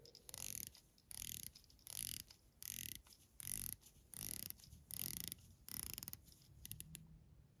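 Rotating bezel on a no-date dive watch with an NH38 movement and screw-down crown, turned in a rapid series of crisp ratcheting click bursts, very close and steady, with no voices.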